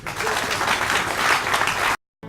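An audience at an INPP ceremony in North Kivu bursts into steady, close applause for about two seconds, then the clapping cuts off abruptly to near silence before a brief return.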